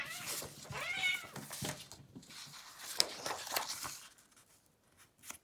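Cats fight in the background outdoors, with yowling, wailing meows and caterwauls rising and falling over a few seconds, fairly faint and distant, then trailing off into quiet.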